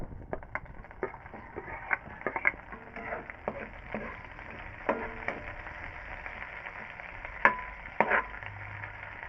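Garlic sautéing in a pan for chicken minudo, with a spoon stirring and tapping in scattered knocks over a constant low sizzle, up close with no talking.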